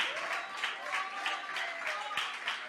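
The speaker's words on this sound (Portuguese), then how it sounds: "Você pode aplaudir o nome do Senhor?" A church congregation claps continuously during a worship service, with a dense, steady patter of applause and a few voices mixed into the noise.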